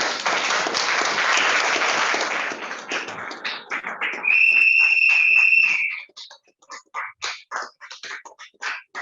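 An audience applauds a professor at the closing ceremony of a training year, with steady, dense clapping for several seconds that fades into scattered claps and breaks off. A short electronic tone rings out midway.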